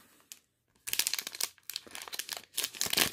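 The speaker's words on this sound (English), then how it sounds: "We will start with our sticker pack." A crinkly plastic wrapper on a Deadpool sticker pack is torn open: a short rustle, a pause, then bursts of crackling, tearing and crumpling close to the ear.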